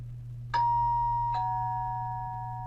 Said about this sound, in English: it played the bell sound